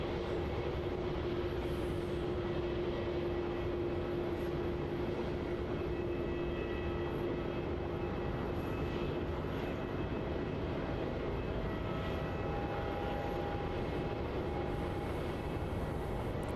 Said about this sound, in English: And here's United, the 777.